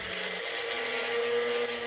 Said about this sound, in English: We put our lid on and blend.